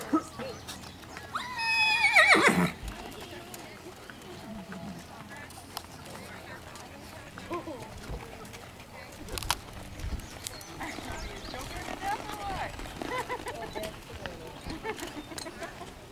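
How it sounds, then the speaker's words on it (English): Horses neighing with a loud whinny near the start and faint hoofbeats, at a Las Vegas horse show where riders are told to walk and reverse; an announcer's voice carries over the arena sound. "Walk your horse, please walk."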